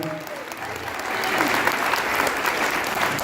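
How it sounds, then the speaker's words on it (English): An audience claps steadily for a keyboardist and choir after a school class presentation, a dense, sustained wash of applause that swells slightly and holds. "Let's give a huge round of applause for them."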